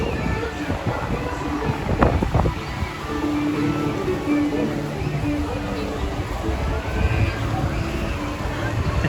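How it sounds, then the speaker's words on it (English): Wave pool waves at a Disney water park, a continuous rushing wash of water with wind noise, loud and close, with a few brief knocks and talk over it. "There's a few of the waves."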